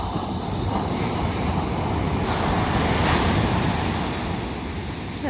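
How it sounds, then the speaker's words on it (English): Steady roar of surf washing onto the shore, broad and continuous with gentle swells in loudness and some wind in the background. "Pretty big waves."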